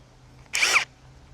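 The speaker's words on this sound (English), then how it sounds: "I need to drill holes in this" A single short burst of an impact drill whirring while drilling holes in a planter, lasting only a fraction of a second against a quiet background hum.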